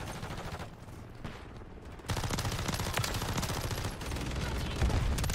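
A WSP Swarm pistol fitted with a conversion kit fires in Modern Warfare III, a dense, continuous rapid-fire stream of shots that grows louder and fuller partway through amid loud game noise.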